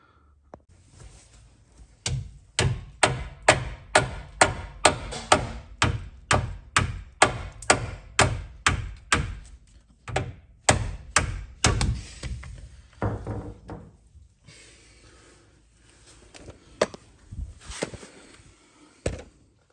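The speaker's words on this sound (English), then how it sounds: "I might be able to hit that with a hammer." Repeated heavy metallic hammer blows ring out in a steady rhythm, about twenty strikes, knocking out a Volvo V70 P2 subframe bush, then a pause and a few scattered clanks and knocks.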